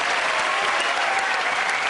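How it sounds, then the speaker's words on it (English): Applause from a studio audience at a British comedy panel show, a loud, even, sustained roar of many clapping hands with no talking over it. "Give a round of applause to everyone there."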